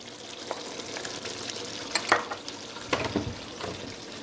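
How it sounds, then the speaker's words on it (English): Jamaican brown stew chicken back sizzling in a pot as tomato is added, steady close frying crackle with a few stirring scrapes and splashes, no voices. "So now I'm going to go ahead add in my tomato."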